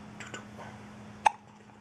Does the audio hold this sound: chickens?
no